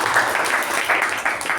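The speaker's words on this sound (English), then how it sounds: "can we have a huge round of applause?" The audience at a Toastmasters club meeting gives a round of applause, a steady, even patter of many hands clapping throughout at moderate loudness, with no one talking over it.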